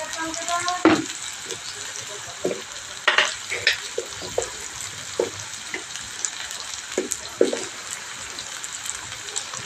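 Onions and beans frying in a pan, a steady soft sizzle broken by sharp scraping stirs and clinks of a utensil at irregular intervals.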